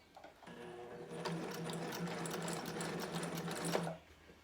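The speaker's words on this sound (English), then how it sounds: "I back stitch it 3 times so that it doesn't come undone" A sewing machine back stitching a fabric face mask runs in one steady, fast whirring burst for about three seconds, close and clear, then stops.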